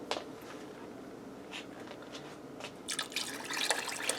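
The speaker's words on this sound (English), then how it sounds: "Now I'm going to add in just a little more water." Water pours and splashes into the pot of an air fryer grill combo, a trickle with scattered drips building to a louder, steadier splashing toward the end.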